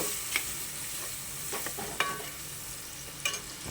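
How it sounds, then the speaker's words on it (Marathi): Dry spices being stirred into onion and peas in a pan for spinach rice, heard as a few soft scraping strokes of a spoon over a quiet background sizzle, with no talking. "सुके मसालेसुद्धा आपण कांदा आणि मटारसोबत मिक्स करून घेऊयात"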